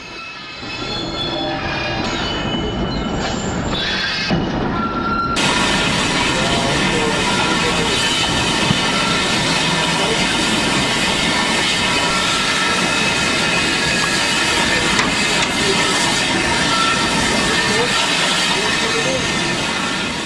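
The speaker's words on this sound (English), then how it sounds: "The British Rail Class 47 has just arrived with a rake of empties" A British Rail Class 47 diesel locomotive shunts a rake of empty wagons nearby, rumbling steadily with a dense roar of engine and wagons and occasional metallic squeals throughout.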